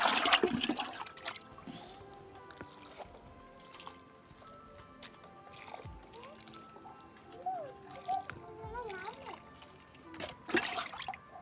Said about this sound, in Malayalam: നമുക്ക് അഞ്ച് കപ്പ് ആയിട്ടുണ്ട് നമ്മുടെ കോളിഫ്ലവറിൻ്റെ ചുവട്ടിലേക്ക് നമുക്കിതങ്ങ് ഒഴിച്ചു കൊടുക്കാം